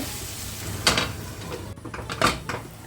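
A metal lid is set onto a cooking pot of tomatoes, giving two sharp clanks about a second apart over low kitchen background noise.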